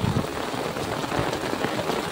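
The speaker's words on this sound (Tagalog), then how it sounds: "Kasi malakas ang ulan." Heavy rain pours in a steady, dense hiss, close and constant, with no voices.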